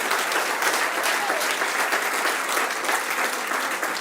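A church congregation claps strongly in praise, a dense, even wash of applause that holds steady and loud from start to finish.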